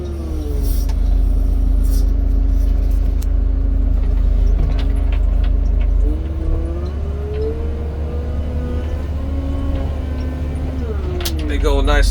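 A large rented John Deere loader engine runs at close range with a heavy, steady low drone and shifting pitch as it works, while people talk at moments.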